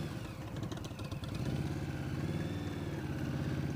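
A 2018 Indian Scout Bobber motorcycle engine runs nearby with a rough, clattering idle that swells into a steady, louder drone as the bike pulls away, with no talk.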